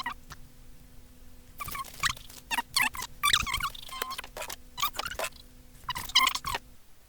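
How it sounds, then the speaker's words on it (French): Chicken clucking close by in short, irregular bursts of squawks and chatter, with quiet gaps between calls and a faint steady hum behind. "T'as kidnappé une poule là?"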